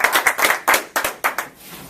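A morning assembly audience gives a thin, scattered round of clapping, a handful of separate claps and small bursts close by that quickly trail off into quiet.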